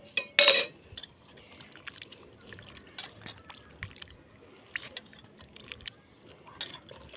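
Boiled macaroni and noodles are washed in a pan with water, producing quiet intermittent clinks, splashes and trickles, with a sharp metallic clatter near the start.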